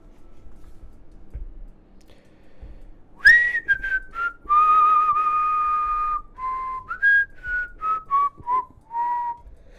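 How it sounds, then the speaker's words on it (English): Someone whistles a short melody nearby, with sustained notes and quick separate phrases, clear and fairly loud over a quiet background. "He was whistling while he was in jail."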